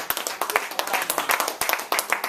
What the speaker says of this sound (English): please give the brother a round of applause again,